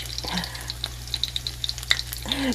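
Corn fritters sizzle in a pan with soft steady frying and small oil pops crackling throughout, faint and close, over a low hum, without speech.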